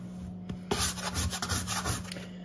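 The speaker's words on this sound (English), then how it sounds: "Bread scraper useful for getting tiny bits off the worktop." A bread scraper scrapes small bits of biscuit dough off a kitchen worktop, giving a soft, close rasping rub in short repeated strokes, quiet and steady with no voices.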